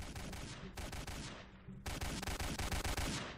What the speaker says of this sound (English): Okay, I'm shooting him, okay.